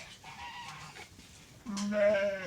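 Sivas breed lambs bleat in a farm pen, short wavering calls that are faint at first and then a louder, closer bleat near the end.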